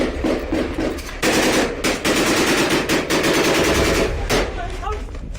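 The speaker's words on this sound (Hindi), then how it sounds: "अल कासिम के लड़ाके आईडीएफ के ऊपर ताबड़तोड़ गोलीबारी शुरू कर देते हैं" Rapid automatic gunfire from Al-Qassam fighters attacking IDF forces in Jabalia, loud dense bursts of machine-gun shots rattling continuously with brief gaps, close and harsh throughout.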